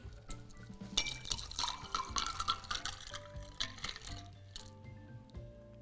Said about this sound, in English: just gonna open pour into this one